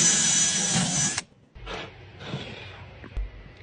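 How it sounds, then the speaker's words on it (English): A power drill bores a hole through a 3D printed map piece for lights, a loud whining burst for about a second before cutting off, followed by quieter handling clatter and soft thuds. "Now let's drill the hole for the lights."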